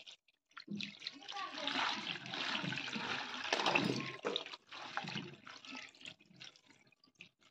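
Cut vegetables, including carrots, cauliflower and green peas, are washed by hand under running water in a home kitchen. Splashing and gushing run steadily for several seconds at moderate loudness, with brief gaps.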